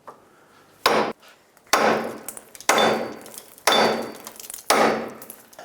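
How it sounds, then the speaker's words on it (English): A hammer striking the steel steering knuckle of a 2003–2009 Toyota 4Runner to drive out a tie rod stud, five sharp, loud metallic blows spaced about a second apart, with no talk. "Next with a hammer, I'm going to hammer right here on the knuckle."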